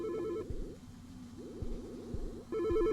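Telephone ringing in a video game: a warbling electronic ring pattern at the start and end, with synthetic trilling tones and background music between.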